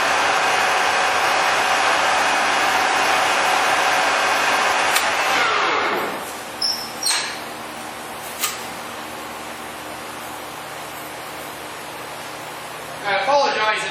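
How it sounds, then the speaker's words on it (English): A shop fan runs in a machine shop with a loud, steady rushing hum that cuts off about halfway, leaving a quieter room with scattered clicks and knocks. "If you hear a background noise, it's the shop fan."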